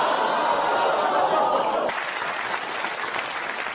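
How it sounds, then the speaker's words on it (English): A studio audience claps steadily at a late-night comedy show, dense and continuous, with some laughter mixed in and the applause easing slightly partway through. "You clapped too early."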